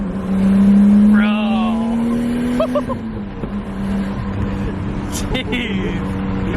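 A right-hand-drive Nissan Skyline R34 engine revs hard, its pitch climbing and sweeping up and down through several loud, close throttle blips, with people talking excitedly underneath.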